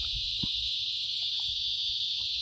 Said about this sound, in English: We got the Cicadas.